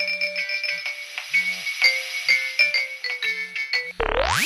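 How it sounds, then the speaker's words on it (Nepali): A phone call rings out over the line, repeating short tone pulses in an uneven pattern, loud and close, ending in a sudden rising burst of noise. "यो घन्टी घरि गएको सुनिन्छ, घरि सुनिँदैन"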